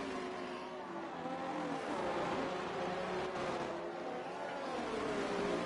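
F1 race cars lapping Melbourne in a racing game league, engines whining at high pitch with shifting tones as cars pass and battle, heard at moderate volume beneath a commentator's talk.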